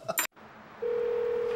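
Telephone dialing in a drama scene: after a short clattering handset noise and a brief gap, a steady single electronic tone sounds, clear and continuous.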